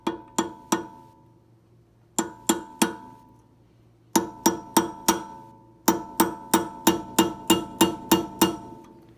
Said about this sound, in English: Staking the wheel nut down, or the axle nut.